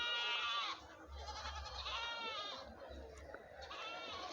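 Goats bleat repeatedly and close by at a busy Sunday goat market in Natham, where Salem black goats are sold, with a steady crowd murmur and some voices underneath.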